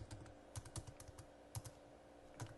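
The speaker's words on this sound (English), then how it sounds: "Now I'll just type in" Someone types on a computer keyboard while entering data into an Excel spreadsheet. Soft, quick keystroke clicks come in small uneven bursts, faint but close, with no speech.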